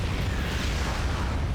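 A Yamato Cannon blast in the sci-fi strategy game StarCraft 2 lands as a dense, continuous roar of explosive noise with a heavy low-end rumble, loud and steady for a second and a half with no voices.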